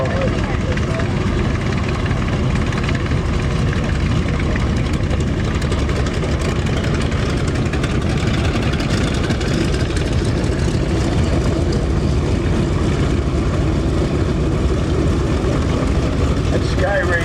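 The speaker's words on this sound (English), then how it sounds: "That Sky Raider engine certainly has a rumble to it." A Skyraider's piston engine at a WW2 air show weekend in Reading, Pennsylvania, giving a steady, loud, deep rumbling drone that continues unbroken from start to finish.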